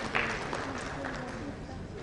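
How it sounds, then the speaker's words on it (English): Applause rises from the audience at a healthcare summit in Rajasthan as a guest is welcomed on stage, a modest spread of clapping under a voice speaking over it. "Round of applause."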